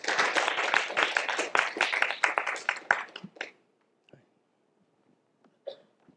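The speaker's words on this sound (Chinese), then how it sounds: "我们掌声欢迎。" Applause from the audience at the final of a quantum philosophy debate tournament: a dense burst of clapping lasts about three seconds, then breaks off into near silence with a few faint, scattered sounds.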